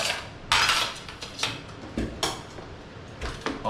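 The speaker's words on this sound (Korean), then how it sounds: "접시를 좀 치울게요." Plates are cleared off the tabletop of a camping conversion kit for a Ray car: several sharp, close clinks and clatters of dishes sound at irregular intervals, with no talking.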